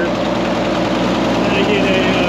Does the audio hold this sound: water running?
no